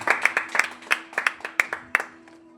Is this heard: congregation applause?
yes